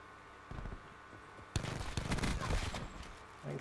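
Shotgun fire in Black Ops 4 free-for-all, a sudden sharp close blast midway followed by a rough burst of further shots and clatter, quieter background before it and a voice speaking underneath.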